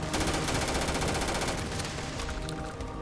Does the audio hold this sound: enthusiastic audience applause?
no